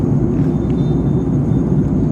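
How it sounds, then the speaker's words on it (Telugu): Steady, loud low rumble of an airplane cabin in flight, heard from a seat near the wing, a constant droning hum with no voices. "ఆ మేఘాల పై నుంచి వెళ్తుంది నా ఫ్లైట్, నేను ఎక్కిన ఫ్లైట్."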